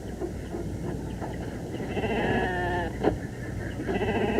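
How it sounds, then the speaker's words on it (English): A sheep bleats in a wavering, drawn-out call over a low steady rumble, with fainter bleats around it and no talking. "Now these are sheep, boy. Nothing but dumb sheep."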